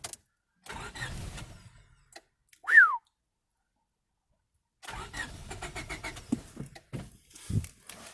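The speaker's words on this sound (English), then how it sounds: "it cranks much faster now" A 1998 Honda Civic EX engine cranking over in bursts, a quick repetitive whirring churn that stops, pauses in near silence, then resumes for several seconds, with a brief chirp in between.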